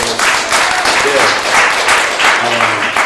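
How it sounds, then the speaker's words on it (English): An audience claps warmly and steadily for Dr. King at a live talk, producing loud, dense applause with a voice faintly mixed in. "Clap it up for Dr. King"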